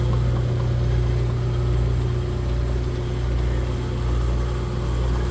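A Bridgeport single-phase milling machine head runs in back gear at 80 RPM, giving a constant low mechanical hum and drone that stays even throughout, steady and nearby.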